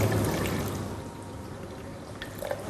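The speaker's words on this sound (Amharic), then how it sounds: "በውሃ ብርጭቆ አንድ ተኩል ያክል ውሃ" Water is poured from a drinking glass while honey is being measured for a recipe in a kitchen cooking show. It makes a steady, close splashing pour with light trickles and drips near the end.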